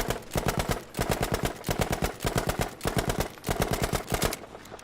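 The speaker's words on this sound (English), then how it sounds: "I'm still hitting enough shots with the Sten at 25 meters to kill someone" Sten submachine gun in Battlefield V emptying a full magazine in rapid automatic bursts, loud and close, with sharp evenly spaced shots broken by brief pauses between strings.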